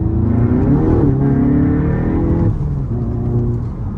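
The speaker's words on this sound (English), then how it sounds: "We'll do like a little second gear hit right fast." Tuned Volkswagen MK7 GTI with a downpipe, revving hard in second gear with heavy wheelspin, a loud, steady engine roar climbing in pitch, with a brief dip near the middle before the sustained drone continues.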